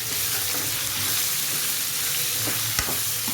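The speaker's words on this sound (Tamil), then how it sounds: "எல்லாத்தையுமே போட்டு நல்லா வந்து கொஞ்சம் வதக்கணும்" Onion, tomato and grated coconut sautéing in a pan for a chicken bone curry, giving a steady, close sizzle with a brief scrape of stirring near the end and no talk.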